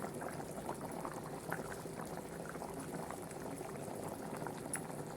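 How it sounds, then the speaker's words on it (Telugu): A pot of mutton head curry boils at a steady, quiet bubble, with soft continuous popping and gurgling close by. "ఇప్పుడు కొద్దిసేపు ఉడకనిద్దాము కూర మళ్ళీ"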